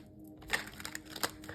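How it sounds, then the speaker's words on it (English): Tarot cards being shuffled by hand: a soft, papery riffle with several quick crisp bursts of rustling over about a second and a half, fairly close and quiet, with no talking. "Let me shuffle one more time."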